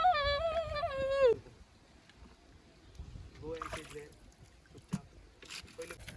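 A boat ride through a mangrove forest in Goa, with a low motor hum and faint water sloshing beneath cheerful chatter and laughter from passengers on board.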